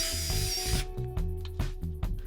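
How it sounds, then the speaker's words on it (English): An electric screwdriver spinning a spoke nipple out of a bicycle rim, a close buzzing whine with a loud hissy start, then short bursts of motor spin broken by brief pauses and rattling. "First, I used an electric screwdriver to spin the nipple out."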